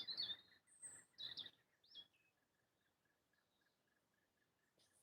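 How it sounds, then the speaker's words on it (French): An unidentified bird sings high, thin chirps in a few quick bursts, faint and somewhat distant, over a steady insect-like buzz and otherwise quiet surroundings. "je sais pas ce que c'est cet oiseau."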